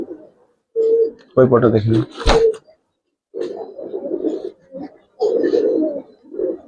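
Giribaz tournament pigeons in a loft give soft, throaty cooing calls in several short bursts, close by, with a voice speaking briefly between them.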